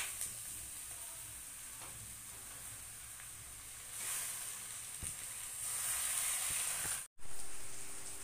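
Onions sautéed with tomatoes in a pan give off a steady broadband sizzle, louder and hissier in the middle, with a brief dropout near the end and no talk.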